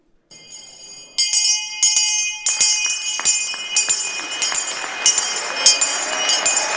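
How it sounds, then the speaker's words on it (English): A historic college hand bell rung at a campus welcome ceremony, sounding in a quick series of bright, loud clangs with ringing overtones, the strokes growing denser toward the end. "using his bell, ring you into the good company of Wabash men"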